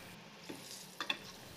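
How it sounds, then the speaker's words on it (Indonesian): Battered chicken fries in hot oil, a soft steady sizzle with a few brief sharper crackles and pops, close by and fairly quiet, with no voices. "Saya lakukan menggoreng ayamnya sampai adonan yang saya bikin tadi habis."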